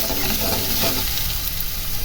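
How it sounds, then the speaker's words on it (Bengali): Onion and garlic fry in hot oil in a wok for a shrimp-head mash. A loud, continuous sizzle is close by, with stirring scrapes early on and no talking. "কড়াইতে তেল গরম দিয়ে"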